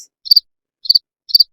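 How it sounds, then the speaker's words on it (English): Crickets chirping in three short, bright, evenly spaced bursts, each a quick double pulse, loud and clear against silence. "Hey, they're here today. Our friends, the crickets."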